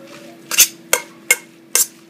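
Crab cake mixture, seasoned with pepper and curry, stirred in a bowl: four sharp clinks and scrapes of a utensil against the bowl, spaced irregularly about half a second apart, close and fairly loud with a faint background hum.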